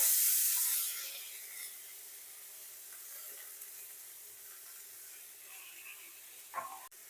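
Carrots going into a pan of lightly fried cashews for fried rice, giving a soft, steady sizzling hiss that fades after a louder start, with a single clink near the end.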